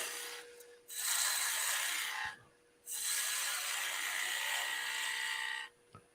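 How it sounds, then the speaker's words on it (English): A small spindle gouge cuts wood on a lathe, giving two long, loud rasping passes separated by a short pause, close and steady, with faint knocks in between. "So we're turning this end down to the ring there."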